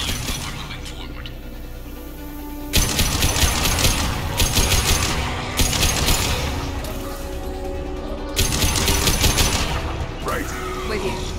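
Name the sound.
heavy gunfire in the video game Mass Effect 2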